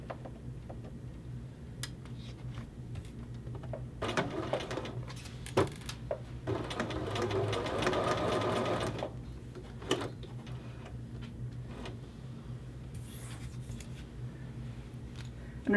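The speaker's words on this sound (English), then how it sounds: "I'm going to go back down to reinforcement stitching." A sewing machine does reinforcement stitching near the tip of a men's shirt collar, joining the collar to its facing. Quiet ticking comes first, then a steady run of stitching in the middle, then more scattered ticks.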